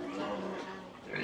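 Pigs grunt and oink continuously in a farmyard in Rosario, Batangas, during a christening and first-birthday celebration, a dense, steady, moderately close chorus with no talk over it.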